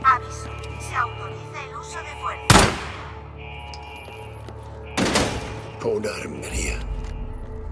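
Gunfire in the video game Days Gone comes as two sharp, loud reports spaced a few seconds apart, each followed by a short ringing tail, amid scattered softer game sounds and thumps.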